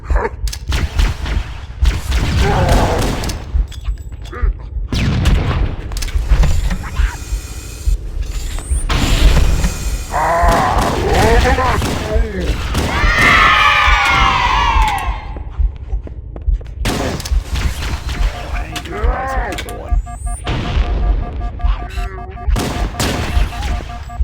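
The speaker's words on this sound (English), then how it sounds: "Who is shooting?" Gunfire and explosions from the video game Halo, with repeated sharp bursts and booms that come and go across the clip and sit mixed among other game sounds.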